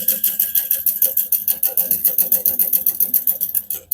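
A sewing machine runs steadily, stitching a center row down the connectors of a harmonica-style hobo bag, its needle clattering in a fast even rhythm close up for the whole stretch before briefly pausing near the end.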